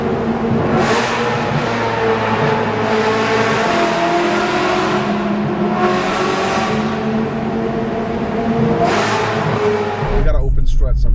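A new rear-wheel-drive V8 car with a Crescent exhaust and its valves open, revving loudly and close by as a continuous engine roar with rising and falling throttle blips, then a final shift in tone at the end.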